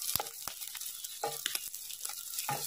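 Goat liver fries in a pan with a soft, steady sizzle, broken by a few short crackles and stirring scrapes, quiet and close with no talk.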